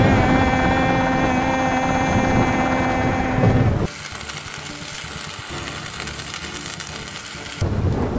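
Steady whirring helicopter rotor noise fills the scene, loud and continuous, with a rougher rumbling roar in the middle stretch that sounds like wind or rain.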